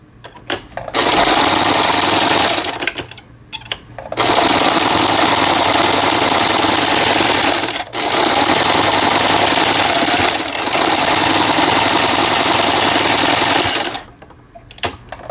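A Yamata FY900 sewing machine stitches a special overlock pattern, its loud, close motor whirring in long continuous runs with a few brief stops in between.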